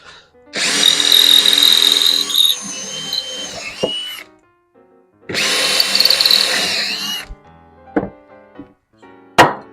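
A power drill bores at a sharp angle into wood for a DIY hose hanger, giving two long, loud whining runs split by a pause, then a few short bursts and knocks near the end, all close by.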